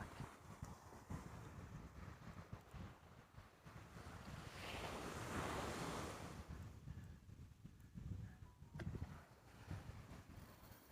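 Ocean surf on an Australian beach: a steady roar of waves breaking and washing in, swelling loudest mid-way, with wind buffeting the microphone throughout.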